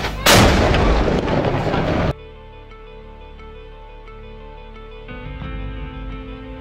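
A single loud cannon blast with a sharp boom and rumbling decay, followed by a quieter steady background hum.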